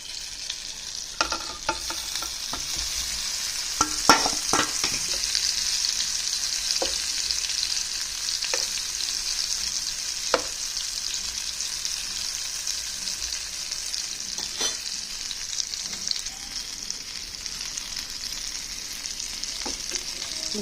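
Bitter gourd fries in a hot pan with a constant bright sizzle, broken by occasional sharp clicks and scrapes as it is stirred.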